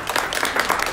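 An audience bursts into applause at a book presentation of "Minu Tartu" in Tallinn, a dense and steady wash of many hands clapping at once, moderately loud with no voices over it.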